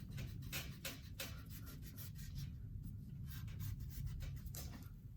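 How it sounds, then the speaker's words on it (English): An eraser rubs back and forth over a pencil drawing of dinosaurs on paper, a quiet, close, rhythmic scrubbing with steady strokes and no speech. "I'm gonna erase this."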